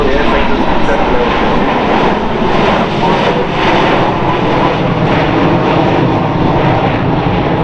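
A loud, steady aircraft engine roar drones throughout at the Farnborough Airshow, close and continuous, with voices faintly present beneath the noise.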